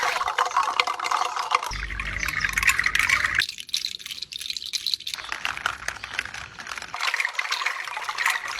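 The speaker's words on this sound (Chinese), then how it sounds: "你说像不像泉水流过石板的咕噜声？" Fruit-shell chime strung on natural hemp rope, the shells knocking together into a dense, continuous clattering rattle that resembles gurgling water, close and fairly loud throughout with no voices.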